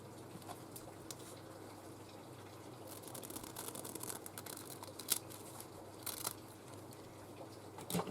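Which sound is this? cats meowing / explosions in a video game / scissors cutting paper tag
scissors cutting paper tag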